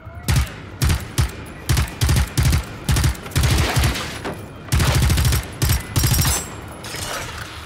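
Gunfire in the Generation Zero game comes as a rapid series of loud, sharp shots in quick bursts with short pauses between them, close and dominant, thinning out toward the end.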